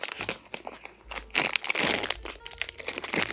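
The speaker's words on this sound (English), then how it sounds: "I am just gonna tear this open" A plastic package holding a Pop Mart Snoopy figurine is torn open by hand, giving a close series of sharp crinkles and rips in irregular bursts with no talking.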